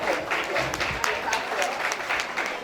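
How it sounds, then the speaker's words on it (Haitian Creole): An audience at an honours event in Florida applauds in a dense, sustained burst of clapping from many hands, close and fairly loud, with a voice audible over it. "on a pas un gros bravo pour Michael"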